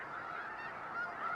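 Migrating geese at a staging wetland, a dense, steady chorus of honking from many birds at some distance, continuous and fairly faint.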